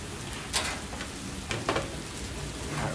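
Rain falls steadily on an outdoor cooking setup while car camping with steak and potatoes, a continuous close hiss broken by a few sharper splashy taps, with no talking.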